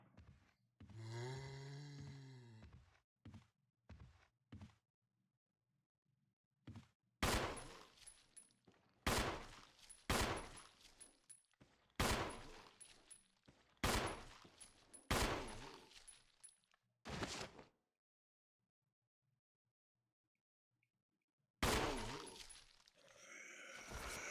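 Gunshots in Resident Evil HD come as separate loud blasts in irregular clusters with silent gaps between them, after a short stretch of a groaning voice at the start.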